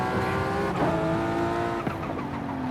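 Toyota Supra cruising at very high speed on a Japanese road, engine holding a steady droning note with a couple of brief pitch dips, continuous and fairly close, no talking.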